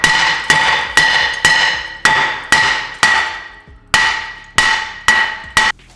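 Heavy hammer blows strike a rust-corroded brake rotor stuck on the hub of a BMW 335 F30, about a dozen sharp metallic clangs at a steady, slightly uneven pace, each ringing briefly, close and loud with no talking.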